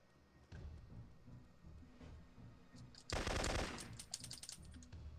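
Sustained automatic gunfire from the video game Syphon Filter 3, a loud dense burst in the middle of the clip followed by scattered sharper shots, over a low rumbling game background with no talking.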